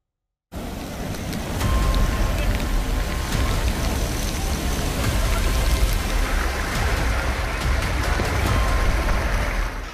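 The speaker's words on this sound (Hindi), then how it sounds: "बारिश हो रही है" Heavy monsoon rain pours down steadily across Mumbai, a dense continuous hiss of rainfall with low rumble underneath, loud and unbroken throughout with no talk.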